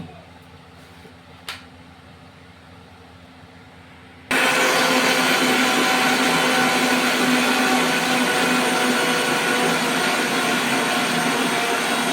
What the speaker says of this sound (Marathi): मिक्सरला ग्राइंड करून घेतलंय।